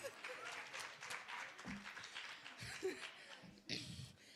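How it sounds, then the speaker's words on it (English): An audience at a student entrepreneurship event claps in a steady round of applause mixed with chuckles and laughter, moderately loud throughout, with some voices mixed in. "give yourself a round of applause"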